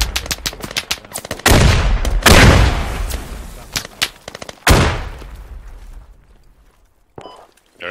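Loud gunfire in the video game Squad, with rapid volleys of shots and several heavy blasts coming from behind the player, then fading to a sparse, quieter spell before a last shot.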